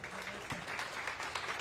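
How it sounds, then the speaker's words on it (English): Audience at a small startup pitch event clapping, a short burst of scattered applause in a room, moderately quiet and steady throughout. "You can clap for him"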